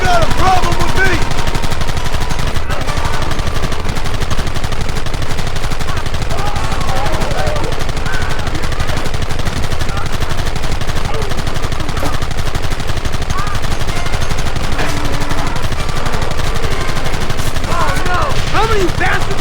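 Gunfire in the western video game Red Dead Redemption, loud and continuous, with rapid overlapping shots and bursts across the whole stretch. Voices shout in places under the shooting.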